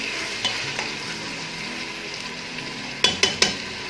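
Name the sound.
frying and stirring onions and tomatoes on high heat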